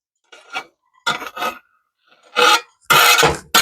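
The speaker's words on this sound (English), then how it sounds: "I'm just going to put these pecans in here and just I'm going to try and get them all in the pan." Pecans poured and rattled into a pan for toasting, several short separate bursts of dry scraping and clinking against metal, close and fairly loud with quiet gaps between them.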